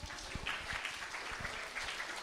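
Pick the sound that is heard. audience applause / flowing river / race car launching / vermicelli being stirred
audience applause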